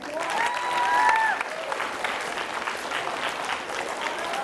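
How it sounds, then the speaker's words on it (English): A high school audience applauds during a youth motivation assembly, steady crowd clapping throughout, with a brief whistle-like sound and some faint voices near the start. "Give them a round of applause, please."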